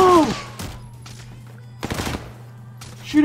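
Bursts of gunfire in the video game Warzone, a few sharp close shots and short volleys separated by quieter gaps, with a brief voice at the start and end.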